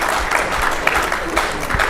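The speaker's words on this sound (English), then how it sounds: "Applause." A debate audience breaks into loud, dense applause, a sustained wash of many hands clapping close and evenly, with crowd noise mixed in throughout.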